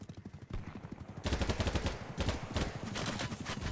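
Gunfire in the video game BattleBit, a burst of rapid automatic shots rattling over steady battle noise, moderately loud throughout the short stretch.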